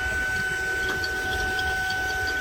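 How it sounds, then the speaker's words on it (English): A vacuum pump runs on freshly installed copper refrigerant line during a Lennox HVAC system change-out, giving a steady, unbroken mechanical drone with a constant hiss and whine and no talking. "So I'm running a vacuum now."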